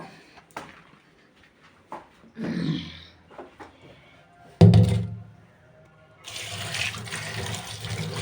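Freshly cut vegetables being rinsed in water for cooking in a home kitchen: a few sharp knocks and thunks of handling, then a sustained stretch of running, splashing water near the microphone, with no talk.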